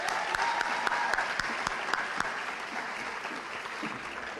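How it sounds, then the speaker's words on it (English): Audience clapping at a high school awards ceremony, a moderate round of applause with some sharp individual claps that gradually thins out over a few seconds. "A round of applause again, please."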